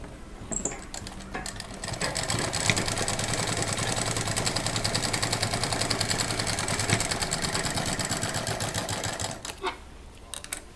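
A sewing machine stitching scrap fabric pieces together for a bedsheet runs in a steady, rapid mechanical rattle for about seven seconds, close up, with brief handling clicks before and after the run.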